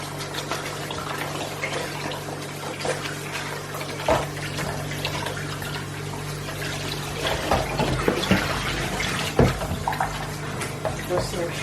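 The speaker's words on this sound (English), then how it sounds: "So I'll rinse it off again with just a little water." Sliced oil bean (ugba) rinsed under a running tap, water splashing continuously into a bowl over a steady hum, with louder splashes as the slices are stirred and a person speaking at times.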